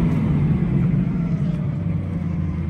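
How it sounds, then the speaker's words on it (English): A Rolls-Royce straight-eight engine runs as a loud, steady low rumble with a dense mechanical hum, close by and continuous without any talking. "Oh, listen to that. Rolls Royce straight 8."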